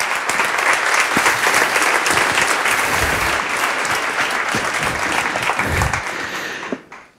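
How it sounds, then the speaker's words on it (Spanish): Loud, dense applause from an audience at a public talk event, sustained and even for about six seconds before dying off abruptly at the end. "denles un aplauso"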